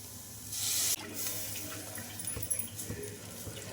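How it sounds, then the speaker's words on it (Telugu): Water is poured into a pan of frying spinach curry, a strong rushing splash for about half a second, then a softer hiss and bubbling that continues under quiet kitchen background. "ఇలా కొద్దిగా ఫ్రై అయిన తర్వాత ఇందులోకి వాటర్ అయితే వేసుకోవాలి"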